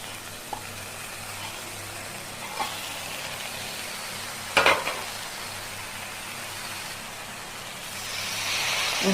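Pieces of fried fish are stirred into vegetables sizzling in a pan, a low steady hiss of frying with a few utensil knocks and one louder clatter midway, no speech.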